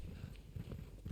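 Hooves of the Black Goat in Resident Evil 8 clatter in a quick, uneven run of soft clip-clop steps, low and fairly quiet in the game mix.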